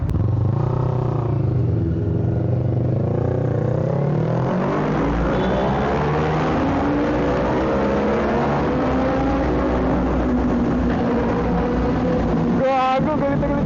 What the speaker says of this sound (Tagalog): Gago, galit na galit yung makina.